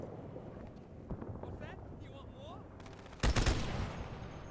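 Turret gunfire in Halo 2 erupts late as a loud, dense burst of rapid shots after a stretch of quieter game noise, with a voice talking earlier in the moment.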